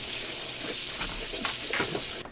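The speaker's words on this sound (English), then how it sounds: "Now the first thing we're going to do is we're going to wash this pumpkin." A sugar pumpkin is washed under a running tap, a steady hiss of flowing water with small splashes as it is handled, cutting off near the end.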